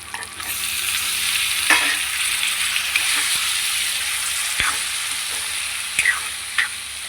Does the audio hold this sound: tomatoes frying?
yes